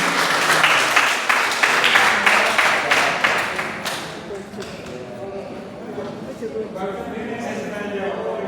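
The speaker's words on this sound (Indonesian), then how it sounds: "Berikan aplaus semuanya." An audience at a Surabaya district socialisation event applauds a welcomed city official, dense clapping for about four seconds that fades into murmuring voices and room noise.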